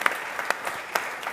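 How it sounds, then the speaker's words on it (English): A conference audience applauds panelists after a discussion on Ukraine's peace formula, a short dense burst of clapping with a few sharper individual claps standing out. "please give our panelists a wonderful round of applause"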